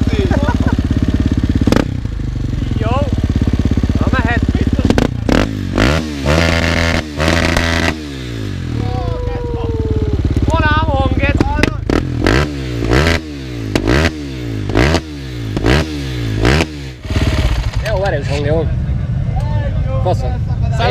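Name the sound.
motorcycle with fake Akrapovic exhaust revving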